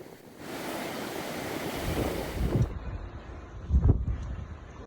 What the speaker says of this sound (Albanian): Në portin e Durrësit dallgët arrin 7 ball